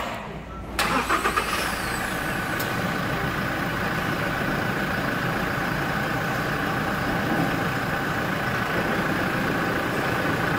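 A Toyota Hilux engine turns over and settles into a steady, close idle as its four-wheel-drive traction engages, with a brief burst of clatter at the start and then a constant rumble.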